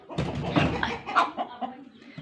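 A pet chicken clucks and squawks in a short agitated burst, close and fairly loud, with the rustle of flapping wings.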